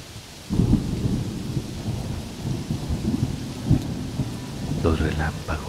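A thunderstorm with steady rain and deep rolling rumbles of thunder, loud and continuous, with heavier thumps of thunder throughout and no speech.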